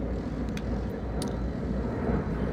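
Outdoors at a campsite, a low, steady rumble of an airplane passing overhead blends with the drone of a lawnmower running in the background, continuous and fairly loud, with no one speaking.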